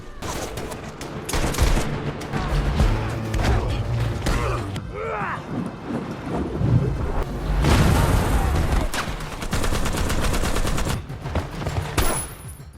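Heavy, continuous video-game gunfire with bursts of automatic shots and booming bomb explosions, dense and loud throughout.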